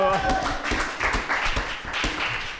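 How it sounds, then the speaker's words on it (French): Audience applause at an Apple Expo 2006 stage show, a dense wash of clapping from a crowd that holds steady for a couple of seconds with some voices mixed in. "On applaudit"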